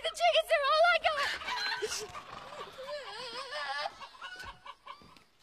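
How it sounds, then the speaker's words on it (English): Chickens cluck and squawk close by in a rapid, uneven series of calls, mixed with some human speech. "Take the chickens. They're all I got."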